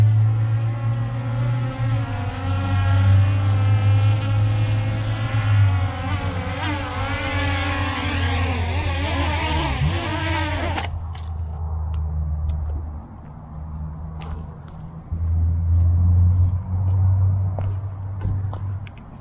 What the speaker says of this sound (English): We got some drift here. So I'm gonna go ahead and land it.